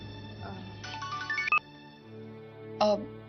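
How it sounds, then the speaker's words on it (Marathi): A mobile phone ringtone plays as a melodic rising tone sequence, then stops briefly and sounds again in a short burst, with faint indoor background and no talk during the ringing. "अगं, कोणाचा फोन ग? उचलू तर द्या, मग कळेल ना."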